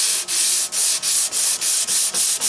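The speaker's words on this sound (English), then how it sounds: "And now I'm up to 400 grit." Hand sanding of a Guild D-55 acoustic guitar neck with 400 grit sandpaper, a steady run of close, bright scratchy strokes in an even back-and-forth rhythm with short gaps between passes, no voices.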